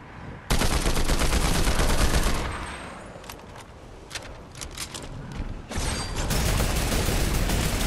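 Automatic rifle fire in the game Horde Rush: a rapid, continuous burst of loud close-up shots, easing into scattered shots and echoes before another sustained burst.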